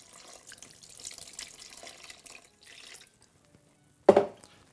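Water is poured into a bowl of sourdough starter, a soft, faint trickling wash for a few seconds, then quiet, ending in one brief, louder splash near the end.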